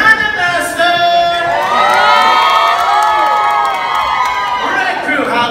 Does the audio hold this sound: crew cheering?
yes